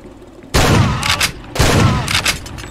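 A grenade blast and gunfire in Far Cry 2. Two loud, sudden bursts of explosive shooting each cut in abruptly and then ring out with shorter cracks trailing behind, and no one speaks.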